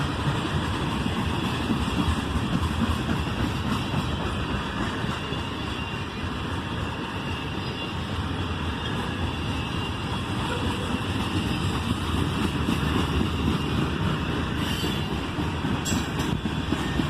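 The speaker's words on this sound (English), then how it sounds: "And there goes the end of the train." A Norfolk Southern freight train rolls past close by, a steady broad rumble of wagons and wheels with faint rail squeal, continuous and loud with no voices.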